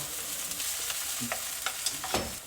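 Food being stirred in a heated pan, with soft scraping strokes and short clinks over a quiet background sizzle, close and fairly faint.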